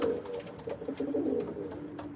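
Racing pigeons cooing in a loft, soft repeated throaty coos close by with a faint background murmur and no talk.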